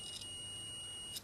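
A multimeter set to continuity gives a steady, faint high-pitched electronic tone that holds unbroken throughout, heard alone.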